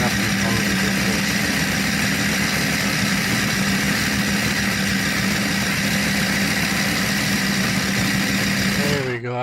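A blender motor labours while kneading pizza dough, a loud steady droning whir with a rough grinding edge that holds throughout and cuts off abruptly at the end.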